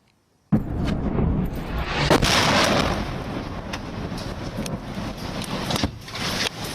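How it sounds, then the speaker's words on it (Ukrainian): A sudden loud blast erupts after a brief silence, its rumbling roar lingering for seconds with scattered cracks and debris sounds, an artillery shell exploding nearby during shelling in Donetsk region, Ukraine. "пролунав перший вибух"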